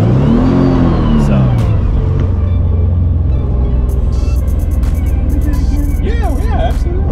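A drift car's engine revs hard under acceleration on a drift course, loud and close with rising and falling engine pitch and rumble, while someone talks over it.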